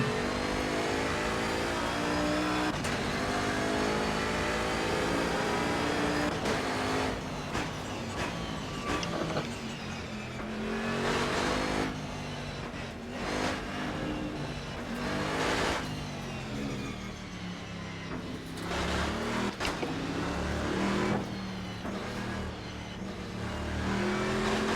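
Bentley Continental GT3 race car in a VR racing game at Circuit Paul Ricard, its engine roaring and revving continuously with rising and falling pitch through gear changes and throttle lifts, loud and close throughout.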